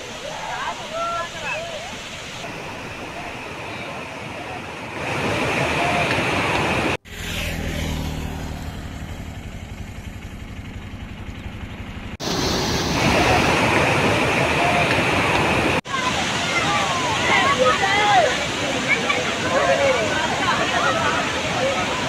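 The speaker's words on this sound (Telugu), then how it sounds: "దట్టమైన అటవీ మార్గం గుండా ప్రవహిస్తూ వస్తున్న జల సవ్వడితో జలపాతం అందాలను చూసి పర్యాటకులు మురిసిపోతున్నారు." Bogatha waterfall pouring down about 50 feet through dense forest, a steady broadband roar of rushing water that runs through several abrupt cuts, louder in the later stretches, with faint voices at times.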